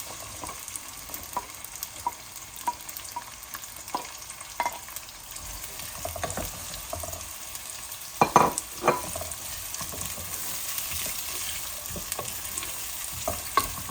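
Onions frying in a pan for chicken biryani, a steady soft sizzle with occasional spoon scrapes and one louder stir clatter midway, no talk.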